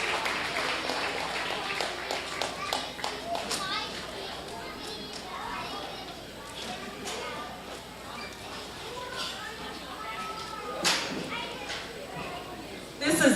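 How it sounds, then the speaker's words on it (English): Clapping from spectators at a county fair swine show, as a girl exhibits her Duroc pig, rises amid a loud announcer's voice, chattering children and general crowd noise. "Let's give Bryn a nice round of applause with her Duroc"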